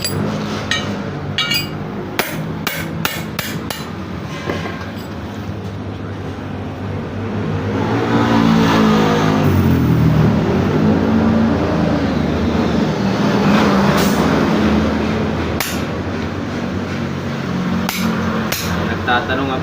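Continuous road traffic rumbling with passing engines, mixed with sharp metallic hammer-like clanks near the start and end; busy, fairly loud outdoor street ambience.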